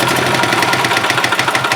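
A 1991 Yamaha G8 gas golf cart engine that had stopped running chugs loudly and close by, with a fast, even pulsing throb throughout.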